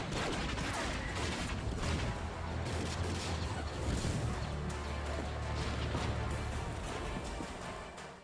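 Dense, continuous barrage of blaster fire and explosive bursts in a Star Wars: The Bad Batch live-fire training battle, loud and unbroken throughout with a deep rumbling low end.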